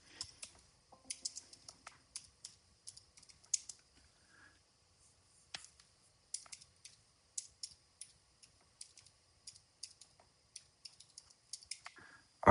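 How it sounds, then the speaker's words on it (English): Someone types a command on a computer keyboard in soft, quick runs of close key clicks, broken by short pauses, in an otherwise quiet room. "I'll just type out the command here"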